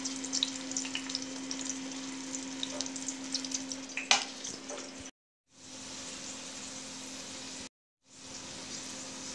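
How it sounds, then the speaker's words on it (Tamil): Slices of elephant foot yam shallow-fry in a pan, giving a soft, steady sizzle with small pops and a faint hum, cut by two brief silent gaps, no talking. "இப்போ கருணை கிழங்கு ரெண்டு பக்கமும் நல்லா ரோஸ்ட் ஆகிடுச்சுங்க"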